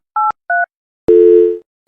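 Two short touch-tone beeps from a phone keypad, then a steady, louder tone held for about half a second, all clear and alone with no talk, at a small village shop.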